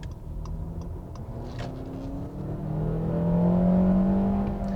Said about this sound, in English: that VTEC switching, that's fantastic